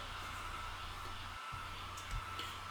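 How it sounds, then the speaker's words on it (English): A steady low electric whirr of a hair dryer runs throughout at moderate level, with a brief dropout in the middle. "you can make that dry a little bit faster by using a hair dryer"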